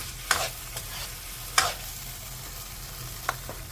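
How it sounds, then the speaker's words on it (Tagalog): Tomatoes sautéing in a pan for beef menudo, a low steady sizzle broken by a few sharp scraping stirs of the spoon, close and moderately quiet with no talking. "Para ka lang naman naggisa ng kamatis eh"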